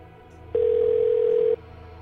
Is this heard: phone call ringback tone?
yes